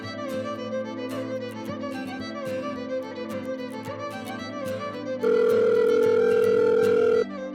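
A telephone dial tone while a sister is called, a steady electronic tone with a brief louder, higher beep near the end, close and clear, no talk.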